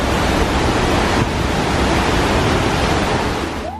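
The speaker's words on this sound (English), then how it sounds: "you will be rewarded as you spot the long falls with the heavy sound of the water falling from the top" A long, powerful waterfall on a solo trip around Siquijor and Valencia, Negros Oriental, with heavy water pouring from the top in a loud, steady roar that fills the whole stretch and tapers slightly near the end.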